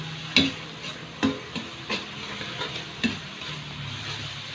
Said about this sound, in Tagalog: maglagay ulit tayo ng soy sauce, 3 spoon mga tol